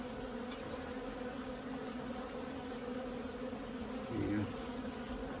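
Honey bees buzz in a dense, steady drone while a hive is removed from a church building, with a brief spoken remark near the end.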